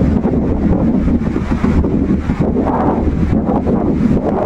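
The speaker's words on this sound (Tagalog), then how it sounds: "Sobrang nakaka-relax talaga yung hampas ng dagat at yung simoy ng hangin." Sea waves and strong wind at Jawili Beach in Tangalan, Aklan, a continuous rushing roar of surf with heavy wind buffeting the microphone, no talking.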